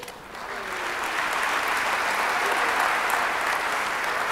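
A school recognition night crowd applauding students, a broad, sustained wash of clapping that swells slightly in the first second and then holds steady and full.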